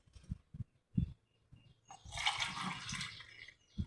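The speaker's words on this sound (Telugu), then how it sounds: "6 గ్లాసులు వాటర్ వేసుకున్నాను." Water poured from a glass into a pot to make rice flour vadiyalu, a short gushing splash lasting about two seconds after a few soft knocks, fairly quiet and close.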